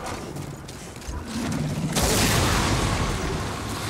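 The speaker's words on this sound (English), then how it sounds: "That sounds like fire." Fire roaring in the Demon's Souls remake: a steady dense rushing roar that swells after a couple of seconds into a louder, broader blaze and holds there, close and continuous, with no clear talk over it.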